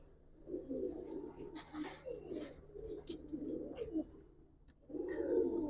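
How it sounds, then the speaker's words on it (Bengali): A Giribaj pigeon coos in low, rolling bursts close by, pausing briefly before a louder run of cooing at the end, with some faint higher chirps mixed in. "অনেক সুন্দর একটা কবুতর"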